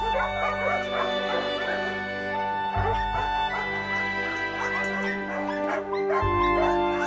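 Many dogs at a dog shelter bark, yip and whimper together in a dense, continuous chorus, some close and loud and others farther off, with a low rumble underneath.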